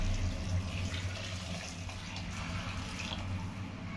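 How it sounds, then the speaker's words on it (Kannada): Hot water poured by the cupful into a pressure cooker holding three cups of rice for biryani, a steady close splashing pour that runs without a break and without voices. "ಮೂರು ಲೋಟ ಅಕ್ಕಿಗೆ 1:2 ಅನ್ನಂಗೆ 6 ಲೋಟ ನೀರು ಹಾಕ್ತಾ ಇದ್ದೀನಿ"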